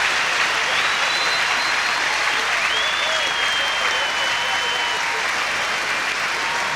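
Sustained applause from a large stadium crowd at an athletics meet, even and continuous, with a few faint whistles rising over the clapping.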